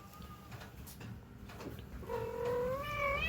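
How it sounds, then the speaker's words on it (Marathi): A house cat gives one drawn-out, rising meow near the end, fairly close and clear, after a few seconds of faint room noise. "ती बाहेरून म्याव म्याव करते तर ही पण ओरडते इथून."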